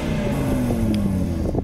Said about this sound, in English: Here we are for a quick exhaust demonstration.